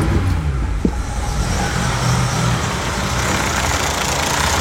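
A supercharged BMW E36 328i engine idles steadily, a loud, close, continuous low rumble with even mechanical hum and no talk.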